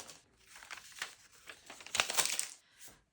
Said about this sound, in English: Carefully remove your waste paper.